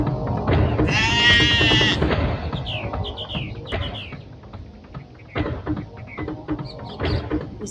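A goat bleats loudly and close while a jackal attacks it, with a strained, wavering cry and scattered bird-like chirps and rustling noise around it.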